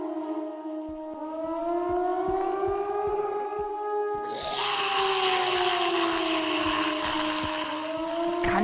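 A civil defense siren wails inside the zombie video game Zompiercer, a loud rising and falling mechanical tone that holds for the whole stretch and grows harsher and brighter midway, with faint background noise beneath it.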